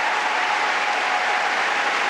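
Thick, continuous applause from an arena crowd at the 2010 World Figure Skating Championships for a pairs free skate, dense and loud, filling the space evenly with no letup.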